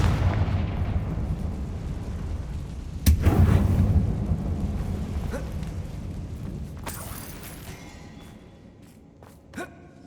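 A Confringo blasting spell hits in Hogwarts Legacy inside an abandoned mine, a sudden booming impact followed by a rumbling decay, with faint debris rattles and a small crack near the end, no talk.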